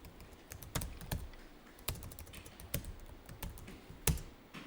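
Someone types on a computer keyboard in quick irregular bursts of close clicks, with several louder key presses standing out over a faint background, no talking.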